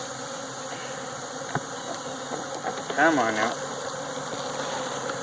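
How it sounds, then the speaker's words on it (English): Honey bees, including nurse bees, hum steadily as they are shaken down into a box for a JZBZ queen battery, with a soft thump partway through and a brief spoken remark over the buzzing. "I'm fixing to shake all the rest of these bees down into there."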